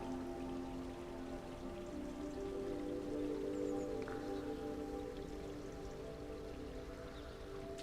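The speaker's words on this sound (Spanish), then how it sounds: "Esta zona de jardines es pura maravilla sensorial. El agua, el agua, el agua." Water flows steadily through gardens in Granada, a soft, continuous trickling and splashing that stays faint and even throughout, with no talk.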